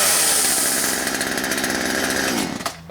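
A chainsaw engine roars loudly at high revs for a few seconds, then cuts out abruptly near the end.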